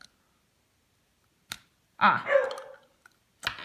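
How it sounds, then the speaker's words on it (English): A pet dog barks a couple of times at close range indoors, short sharp bursts around a quiet room with faint clicks, no talking. "Sorry about my dog."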